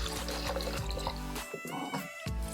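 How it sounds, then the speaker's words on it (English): Lacquer thinner poured into a spray gun cup while mixing precatalyzed lacquer and sealer, a close, steady liquid pour with faint drips and small clinks near the end. "Then I will pour in a little bit of lacquer thinner"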